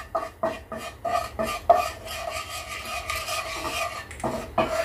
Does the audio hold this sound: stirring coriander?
yes